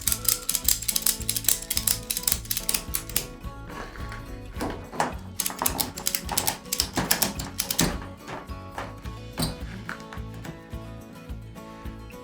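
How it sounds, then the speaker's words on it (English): A strap tensioner on a Hotpoint Wpro washer-dryer stacking kit ratcheting tight, a rapid run of sharp mechanical clicks in repeated bursts, close and loud, with no speech. "Once you've done that, start ratcheting."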